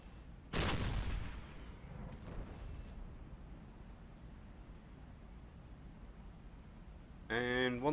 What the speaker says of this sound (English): So I'll give her a couple more shots with the deck gun just to help her along.